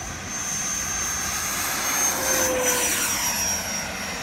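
Eurofighter Typhoon electric ducted fan model jet taking off from a runway in Miaoli, a steady high-pitched whine and whoosh of the fan held at a constant level from start to finish, moderately loud, with no talk.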